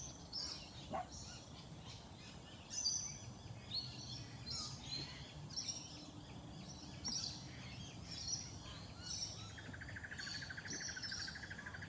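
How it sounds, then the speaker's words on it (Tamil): Sparrows chirp in short, scattered bursts over a low background hum outdoors, faint and moderately distant, with calls repeating irregularly throughout. "குருவியெல்லாம் சத்தம்போது எங்கே ஓடுதுன்னு தெரியல."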